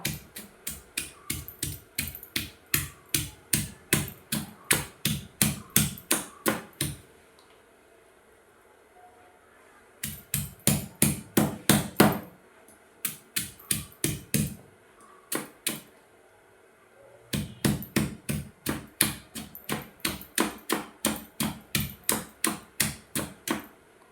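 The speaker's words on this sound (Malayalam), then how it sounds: "അപ്പോൾ ഉള്ളിയൊക്കെ ഇട്ട് നമുക്ക് നന്നായി ഒന്ന് ചതച്ചെടുക്കാം" Shallots, chilies and tamarind being crushed together for a chutney, heard as sharp, rhythmic pounding strikes in quick runs of a dozen or more, separated by brief pauses, with no talk.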